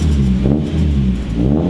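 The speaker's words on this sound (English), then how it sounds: "Here, give it some revs." Miata engine in a Datsun roadster, revved up in a short, loud, close rising and falling rasp, with no talking.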